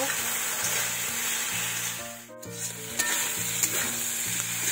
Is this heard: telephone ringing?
no